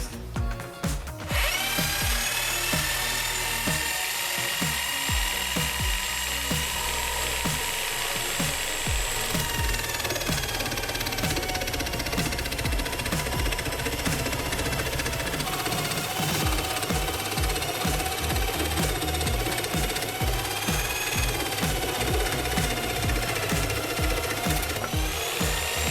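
A Bosch GST 90BE/N power jigsaw runs continuously with a high, whining buzz and rapid chattering as it cuts, sustained at close range, set to orbital 1–2 and speed 2.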